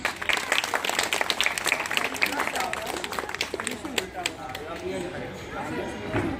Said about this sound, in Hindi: सब लोग ताली बजाइए।